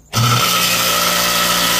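Repaired scroll air conditioner compressor starting up: a sudden onset from quiet into a loud, steady mechanical hum and whir with a sustained tonal drone, close and continuous.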